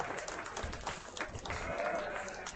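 Applause from the audience at a county fair sheep show, given for the exhibitors: a steady, fairly distant wash of many hands clapping that mixes with crowd murmur and goes on through the whole stretch.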